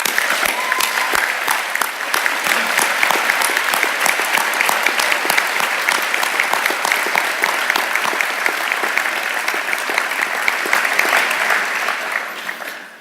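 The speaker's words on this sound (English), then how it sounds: "I think we should give them all a big applause." A large audience at a university college graduation ceremony breaks into sustained applause, a dense steady wash of clapping that holds for about twelve seconds before fading at the end.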